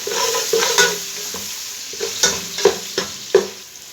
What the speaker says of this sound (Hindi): हम इसमें 1 टेबलस्पून कुटा हुआ लहसुन अदरक शामिल कर देंगे और इसको भी 1 मिनट तक आपने मिक्स कर लेंगे।